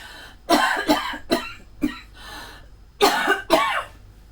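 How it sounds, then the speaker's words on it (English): A string of close, loud coughs comes in uneven bursts, about six of them, with brief pauses between. "I'm going to cough, excuse me"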